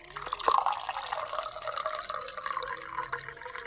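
Filtered water trickles and pours steadily into a jug through a cotton-stuffed spout, a continuous close filling sound with small drips at the start.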